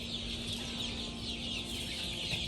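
Nearly five-week-old chickens cluck and chirp together in a crowded brooder on a small pasture-raised egg farm, a steady close chatter of many birds with a low mechanical hum beneath.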